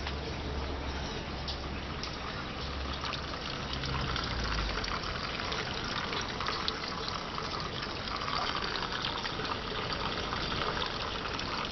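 Water rushes steadily through the plastic pipes of a soilless hydroponic growing system, a dense, continuous gushing flow heard close up without pause for the whole stretch, with no voices.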